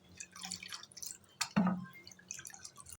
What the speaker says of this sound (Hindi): इस तरह से आपने ना पूरा जूस आपने निकाल लेना है